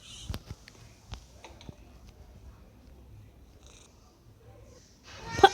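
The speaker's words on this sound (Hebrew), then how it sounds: "יש פה חתול." Cat purring inside a horror video game, a soft, low rhythmic purr with faint snorting breaths, punctuated by scattered clicks and small knocks, ending in a louder burst of noise.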